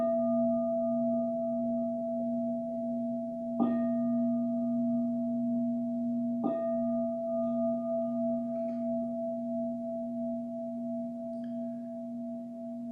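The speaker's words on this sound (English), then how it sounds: "I'll signal the beginning of meditation with 3 long bells." A meditation bell rings out with a sustained, pure tone, struck again twice more at intervals of about three seconds, each strike renewing a long, slowly fading resonance heard clearly and alone.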